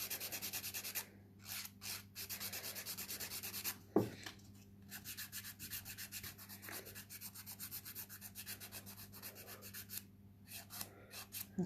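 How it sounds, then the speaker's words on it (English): Sanding by hand in repeated back-and-forth rubbing strokes, close and fairly quiet, with brief pauses between bursts and a single knock partway through. "The sanding bit again."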